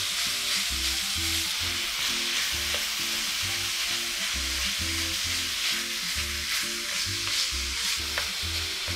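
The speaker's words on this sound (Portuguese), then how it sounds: "Para a carne moída ficar bem soltinha, você vai fazendo assim, com uma espátula ou uma colher," Ground beef frying in a pan while a spatula breaks it up, a steady loud sizzle with rhythmic scraping strokes repeating throughout, close, no talking.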